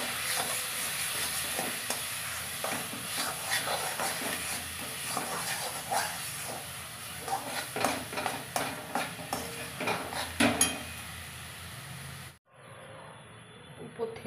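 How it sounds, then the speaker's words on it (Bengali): A spoon stirs thick coconut barfi mixture in a pan nonstop, a soft sizzle with repeated scraping strokes that grow more distinct, then cut off near the end. "তারপরে এটাকে অনবরত নাড়তে হবে"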